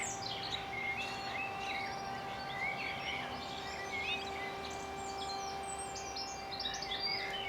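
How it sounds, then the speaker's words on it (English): Birdsong beside a big river, several birds chirping and trilling in overlapping bursts, fairly faint and distant over a soft constant background hum, with no talking. "Lots of bird song."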